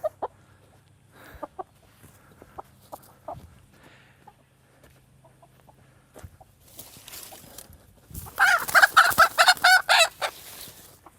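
Chinese silkie chickens on a permaculture vegetable plot cluck and squawk close by, quiet scattered calls at first, then a loud, busy burst of clucking near the end.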